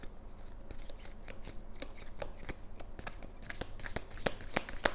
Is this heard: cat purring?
no